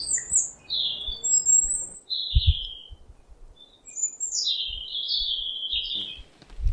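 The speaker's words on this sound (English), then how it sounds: "So this is the blue-eared kingfisher couple which comes and is nesting on that hole there." Blue-eared kingfisher pair at a nest hole in the Western Ghats during the monsoon, with repeated high thin calls and squeaky chirps that rise and fall against a soft low rumble and a few dull thumps.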